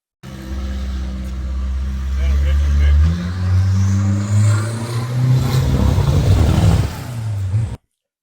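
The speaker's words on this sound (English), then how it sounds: "the engine makes a lot of noise in that van" A minivan engine revving loudly, its low drone climbing and holding in pitch, with a noisy rattle over it before cutting off abruptly.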